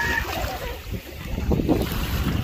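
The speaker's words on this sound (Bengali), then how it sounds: "পানির শব্দ কত ভালো লাগে।" Sea water at Half Moon Beach in Dammam, Saudi Arabia, washes and churns in a steady low rush under wind buffeting the microphone, with a swell of surging water near the end.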